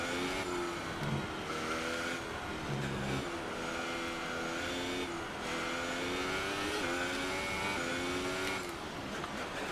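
A Formula 1 car engine in the F1 2018 video game screams continuously at high revs, with repeated rising and falling gear-change sweeps and no talk over it.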